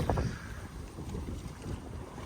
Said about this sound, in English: Winds have really lightened up.